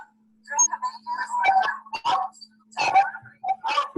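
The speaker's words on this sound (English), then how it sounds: "I think Jeremy's dog is yelping" A dog yelps and barks in short bursts through a live-stream microphone, close and fairly loud, with a faint steady hum underneath.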